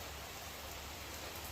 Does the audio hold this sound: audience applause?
no